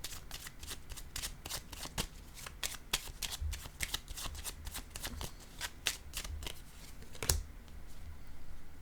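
Tarot cards are shuffled up close in a quick, continuous run of crisp riffling taps and flutters lasting several seconds, alone without voices.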